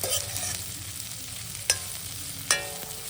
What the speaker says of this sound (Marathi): छान अशी फोडणी करणार आहोत आपण